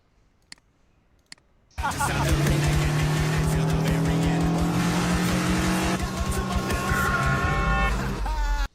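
Car driving effects from a film scene: after two faint clicks, a loud engine bursts in and roars steadily, its pitch climbing as it revs, with tire squeal and skidding near the end.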